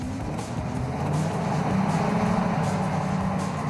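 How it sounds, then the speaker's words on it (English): The Ecto-1, a Cadillac, with its engine running as it drives, a steady broad rumbling roar that swells slightly, heard continuously at moderate loudness with no talk. "It's got that beautiful Cadillac motor."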